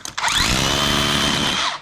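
A rebuilt DeWalt 54V hammer drill runs in hammer-only mode, a loud, steady buzzing hammer rattle that starts abruptly after a brief knock and holds close and constant throughout, with no voices.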